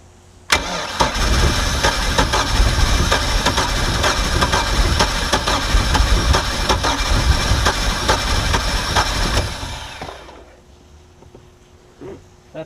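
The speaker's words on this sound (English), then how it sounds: "See if I can adjust the idle a little bit" A Mercruiser 3.0 boat engine, sitting nine years and fitted with a new fuel pump and carburetor, cranks and starts, then idles roughly and steadily before cutting off near the end.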